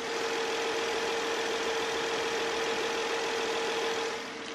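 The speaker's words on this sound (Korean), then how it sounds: "확실히 직렬 6기통은 직렬 6기통입니다." A 2010 BMW 7 Series long-wheelbase sedan with an inline six-cylinder engine idles steadily with the hood open, giving a smooth, even hum with a constant tonal drone and no other sounds.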